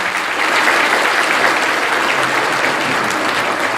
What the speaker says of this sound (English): You may applause.